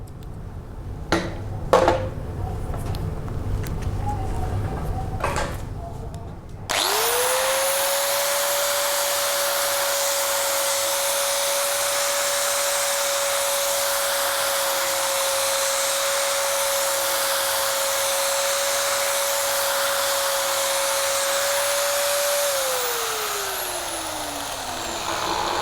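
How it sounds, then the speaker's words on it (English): Angle grinder fitted with a Mini-Turbo plane is switched on and runs steadily on emery cloth, a loud high whine holding for about fifteen seconds before winding down, preceded by faint handling clicks. "I'm now going to plug it in, and I'm going to run it on the emery cloth or the sandpaper and clean up the outside edge right up to the vertical"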